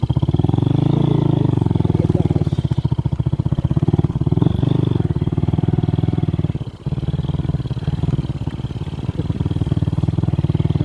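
Motorcycle engine running loud and close with a steady rough chug, revving slightly as it pulls away.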